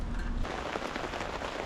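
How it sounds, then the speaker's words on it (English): Steady rain falls outdoors at a fence job site, a dense, continuous hiss of drops pattering on surfaces that holds at an even level throughout with no voices. "It's raining."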